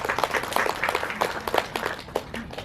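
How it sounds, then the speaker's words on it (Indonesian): Audience applause for Pak Rudy at a community gathering held in a cemetery, scattered claps rising and falling in uneven bursts, moderately close and fairly quiet, with no voice over it. "Tepuk tangan buat Pak Rudy."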